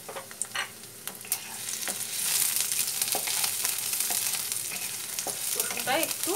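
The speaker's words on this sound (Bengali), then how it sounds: "রসুনটা একটু লাল করে ভেজে নিতে হবে" Crushed whole garlic cloves fry in oil with black cumin seeds. A few scattered pops and spatters start things off, then a steady close sizzle builds and holds, peppered with small crackles.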